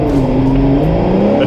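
A Ferrari Purosangue engine held at high revs during a launch, a loud steady drone whose pitch wavers slightly as it bounces against the soft limiter; redline is 8,250 RPM.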